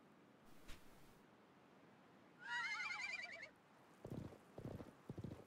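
A horse in the video game Live-A-Live (Remake) gives one long, shrill whinny against a faint background hiss, followed by several soft hoof clip-clops, with no voices.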